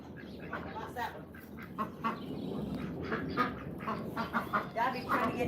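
Backyard chickens cluck and squawk in an irregular run of short calls at moderate distance, mixed with low murmuring voices nearby.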